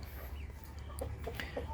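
Chickens clucking inside a coop, soft scattered clucks over steady low background noise, no one talking.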